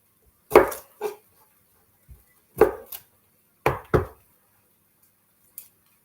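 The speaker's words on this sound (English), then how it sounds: "My little crusher." Fresh garlic pressed in a small hand garlic crusher, with a few sharp separate clunks and squeezes in pairs, close and clear, with short pauses between them.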